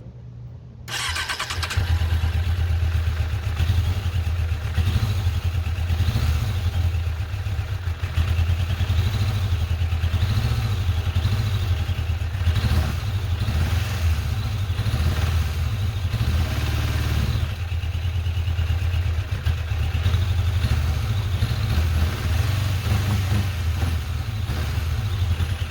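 A Suzuki Katana motorcycle engine, almost 30 years old, idles steadily and loudly after a carburetor rebuild, with a constant low rumble that starts within the first second and runs unbroken to the end.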